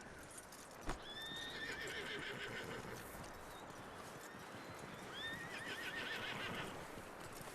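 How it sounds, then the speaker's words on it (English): A horse in Red Dead Redemption 2 whinnies twice, shrill and clear, over steady clip-clop of hooves and ambient outdoor game sound, with no talk. "That looks like a decent horse."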